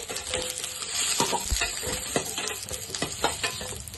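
Chopped onions fry in a pan for mutton kheema, a dense crackling sizzle with frequent clattering spatula strokes and scrapes layered on top, all fairly close.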